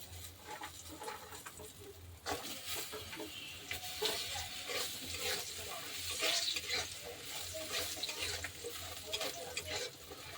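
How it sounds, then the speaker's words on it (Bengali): Bori lentil dumplings fry in a pan with a steady crackle and sputter of oil, interrupted by bursts of sharper popping over a low background hum. "এখন বড়িগুলো ভেজে নেব।"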